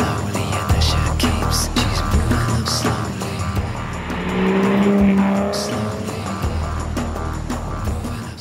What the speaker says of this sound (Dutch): als een Vanquish zo lekker klinkt en er zo mooi uitziet